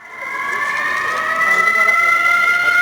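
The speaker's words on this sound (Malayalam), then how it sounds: "അപകട സൈറൻ മുഴക്കിയതാകട്ടെ മൊബൈൽ ഫോൺ വഴി പോലീസിന്റെ അനൗൺസ്മെന്റ് സംവിധാനത്തിലൂടെ" Danger siren from a mock drill at Marine Drive, Kochi, played by mobile phone through a police announcement system, a steady wavering wail holding two bright tones, moderately loud and growing slightly louder, with no talk.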